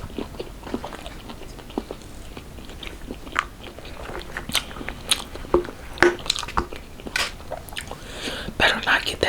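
Close, wet biting and chewing of Chinese takeout coated in chili sauce, with soft squishy crunches and smacks scattered through quiet, sparse clicks and mouth noises.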